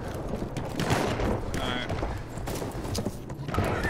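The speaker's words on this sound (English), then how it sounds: "There's a horse around us." A horse gallops across a Battlefield 1 multiplayer match, its rapid hoof clatter heard amid distant gunfire and machine-gun bursts while players talk over it.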